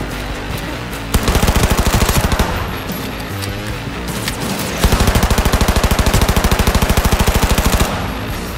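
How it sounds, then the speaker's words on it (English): Rapid automatic gunfire in the video game Cyberpunk 2077, two long sustained bursts of close, loud machine-gun fire with a short gap between them over a busy game soundscape. "Exchanging fire!"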